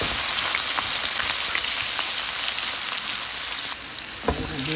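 Cut potatoes for aloo bhaji frying in a pan, a steady close sizzle with small crackles and pops throughout, heard alone with no talk.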